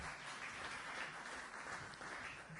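Applause for someone speaker at a press club conference in the Canary Islands, a steady dense wash of clapping from an audience that fills the whole moment without voices.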